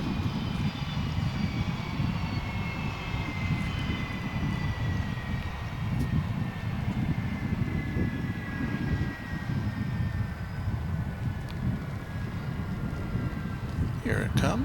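A jet airliner on the runway at Dallas/Fort Worth Airport at night roars steadily and loud, a broad engine rumble under a high whine that slowly falls in pitch.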